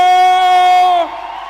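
A long sustained sung or whooped note breaks off into a swell of crowd cheering and clapping at a live worship event, the applause filling the hall for the final half-second.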